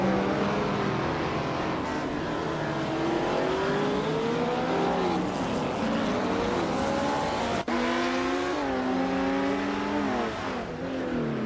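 A vintage 1972 Lola T290 race car drives on a track, its engine revving up and down as gears change repeatedly. A steady loud mechanical whine with rising and falling pitch, and one sharp click partway through.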